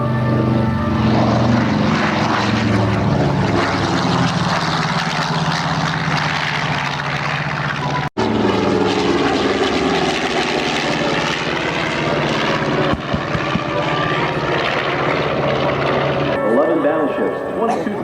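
A B-25 bomber's 2,800 horsepower engine at an air show drones as a loud, continuous propeller roar, with a brief dropout near the middle and a steady wash of broadband noise throughout.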